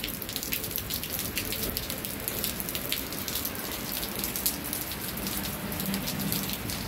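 Steady rain pattering on a surface, dense and continuous, with no voices.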